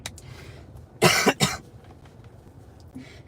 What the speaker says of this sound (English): You know those days where you just can't clear your throat?